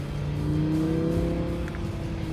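An Audi R8 V10 Plus accelerates hard, its engine note rising steadily in a loud, continuous pull with S-tronic gear changes through the run.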